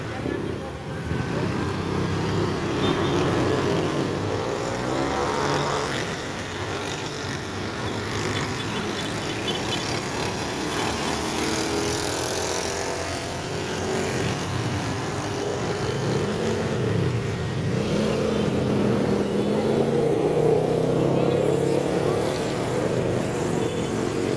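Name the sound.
truck and traffic passing on road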